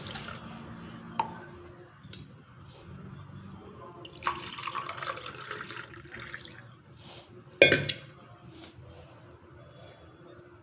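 Water poured from a tumbler onto semolina while making appam batter: quiet splashing and trickling in short bursts with scattered drips and clinks, ending in a brief sharper splash, close by and without talk.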